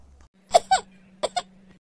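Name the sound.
cough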